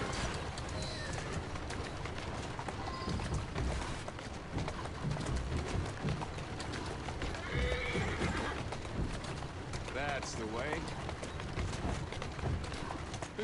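A horse in the Assassin's Creed Syndicate video game trots along with steady clip-clop hoofbeats and whinnies now and then, while someone speaks briefly over the continuous gameplay ambience.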